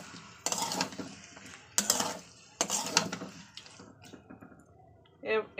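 Live leta fish being stirred and fried in spices in a pan, bursts of sizzling and splattering with clattering utensil scrapes, separated by quieter pauses.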